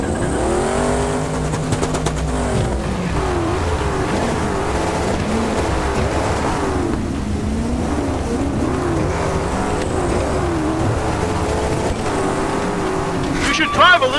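Rally car engine in the Dakar Rally game, driving hard off-road, a loud continuous rumbling drone that rises and falls with throttle and gear changes, mixed with a voice speaking over it and a brief rattle near the end.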